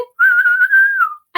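A single voice makes a dolphin imitation, one sustained, gently wavering whistle lasting about a second and rising slightly before sliding down at the end, clear and close against silence.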